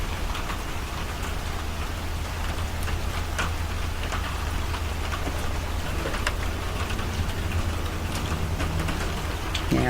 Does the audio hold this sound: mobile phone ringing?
no